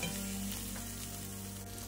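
Chicken stir fry with red chili pepper sizzling in a pan, a dense, continuous frying hiss with faint stirring scrapes and a low background hum, close and even throughout, no talk.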